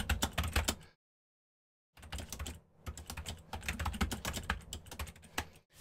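Typing on a computer keyboard while working in a database terminal: quick runs of close, crisp key clicks broken by a full second of silence, then more steady bursts of keystrokes.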